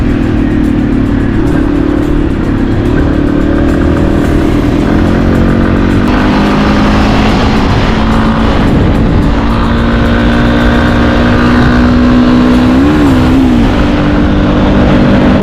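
A Yamaha XT250 motorcycle ridden on the road, its engine droning loud and close throughout with shifts in pitch as the rider changes gear.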